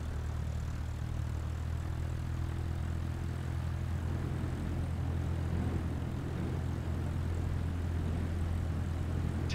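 Cessna in Microsoft Flight Simulator 2020 taxiing to parking, its propeller engine a steady, even low drone that holds constant throughout with no voices over it.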